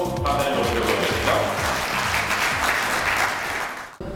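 Sustained applause from an audience, steady and dense clapping for about four seconds before it cuts off abruptly.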